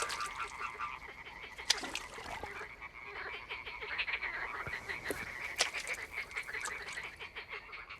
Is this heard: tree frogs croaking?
yes